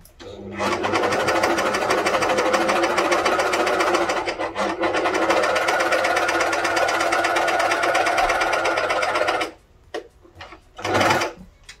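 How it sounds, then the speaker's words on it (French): Juki MCS-1800 coverstitch machine stitching fabric, a loud steady rapid mechanical whir running for about nine seconds with a brief slowdown midway, then stopping, followed by a short burst of handling noise. "Et je commence à coudre."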